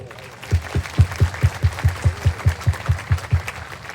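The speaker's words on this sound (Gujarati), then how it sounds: "એકવાર હાથ ઊંચા કરી કપિલ સ્વામીને તાળીઓના નાદથી બધા વધાવો." An audience at a gathering with a swami claps in a steady, evenly spaced rhythm of about fifteen beats, loud and close, with no voices over it.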